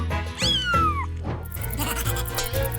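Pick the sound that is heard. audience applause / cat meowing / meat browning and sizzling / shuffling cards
cat meowing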